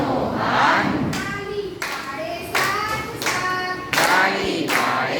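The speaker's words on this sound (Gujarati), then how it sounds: "તાળી પાડે સાત સાત" Bursts of hand clapping keep time in a children's action song about body parts, several sharp rhythmic clap groups landing between sung lines, loud and close over the music.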